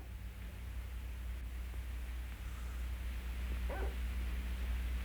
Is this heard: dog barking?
yes